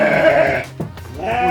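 Sheep in a pen beside a house on a small farm bleat loudly and close by, one long wavering bleat followed by a short break and the start of another, with no talk over them.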